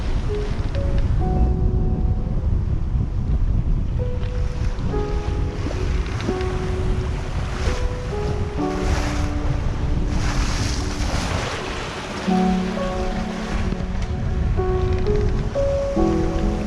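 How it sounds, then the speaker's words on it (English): Heavy ocean waves surge and wash steadily around a sailboat at sea on an Atlantic passage from Jamaica to Panama, with strong wind buffeting the microphone throughout and tonal boat or rigging sounds rising and falling, no talk. "Big waves again, isn't it?"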